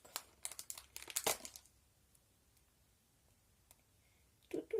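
Close crinkling of a foil snack bag in quick rustling bursts, then a quiet pause before another short crinkle at the end.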